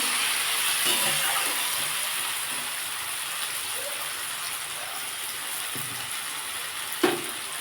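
Ingredients for Bengali-style cucumber bharta fry in a pan with a steady, even sizzling hiss, and one sharp clink near the end.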